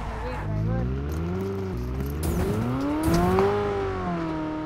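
A car in a battle-royale shooter game turns and drives, its engine revving up and down in smooth rising and falling tones, with someone talking over it throughout.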